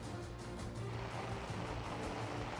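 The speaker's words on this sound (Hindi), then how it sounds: "किस तरीके से बारिश जो है तेज हो रही है, झमाझम हो रही है" Heavy monsoon rain pours down in Delhi as a dense, steady, unbroken hiss that fills the space, with no voices over it.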